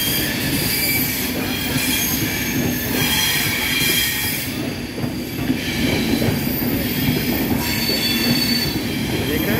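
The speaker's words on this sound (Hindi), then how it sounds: "देख रहे हैं सद्भावना एक्सप्रेस चला जा रहा है, सद्भावना एक्सप्रेस।" The Sadbhavna Express passing close by, a loud, continuous roar of railcars with squealing wheels and steady rumbling for the whole stretch, with no break in the noise.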